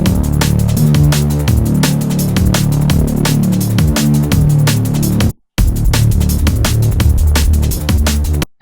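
A drum and bass bassline built in Serum, played with no LFO filter wobble, drives loud and constant under punchy drums. A brief dropout cuts the groove midway before it resumes.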